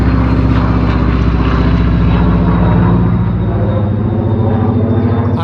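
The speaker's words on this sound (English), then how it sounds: "Let's let the plane go by." A propeller airplane flies overhead with a loud, continuous droning hum whose engine tone slowly shifts as it passes, easing off slightly toward the end.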